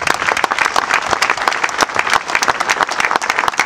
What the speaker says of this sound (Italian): un applauso all'impresa, se lo merita.